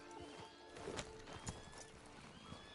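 Horse hooves clip-clop steadily along in a video game, with an occasional whinny over a soft ambient backdrop.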